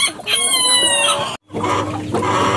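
Light Brahma and Columbian chickens on a hobby poultry farm crow loudly nearby, with clucking before and after a brief cut. The calls are close and clear.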